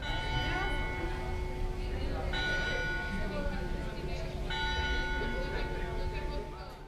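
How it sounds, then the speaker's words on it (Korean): Church tower bells at the Loreto in Prague ring out a Marian hymn melody, steady sustained tones repeating in phrases over a busy outdoor crowd with voices and street noise throughout. "매시 정각마다 성당 탑에 있는 로레타의 종에서 성모 마리아를 찬양하는 종이 울리는데요"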